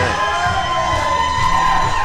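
A packed wrestling arena crowd roars and cheers steadily at a pro wrestling event, a loud unbroken wall of voices with scattered shouts and whoops rising out of it.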